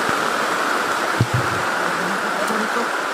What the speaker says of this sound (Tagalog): Ang lakas ng ulan tol oh.